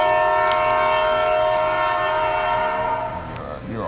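A train horn blares loud and close in one long sustained chord that holds for about three seconds before dropping off, with the low rumble of the train underneath.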